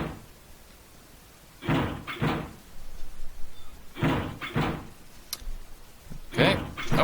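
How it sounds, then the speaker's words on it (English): Doors being tried and found locked in the video game 999: Nine Hours, Nine Persons, Nine Doors, several short bursts of rattling and clunking handles spread across the clip, fairly close, with no voices over them. "they proceeded to investigate each door in turn"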